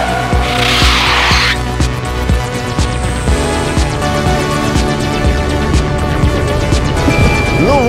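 A nine-year-old Tesla Model S drifts sideways on a race track with stability control off, its drive roaring continuously while tires squeal and skid loudly, the screech rising and falling.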